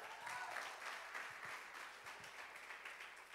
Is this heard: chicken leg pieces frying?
no